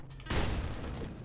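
Rapid gunfire in the video game Nuclear Throne erupts as a dense, loud burst of overlapping shots that sustains through the short moment after a quiet lead-in.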